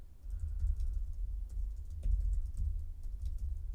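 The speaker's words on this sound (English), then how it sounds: "I'll just go ahead and type that in" Computer keyboard typing, light rapid key clicks in short bursts over a low steady rumble, faint and close.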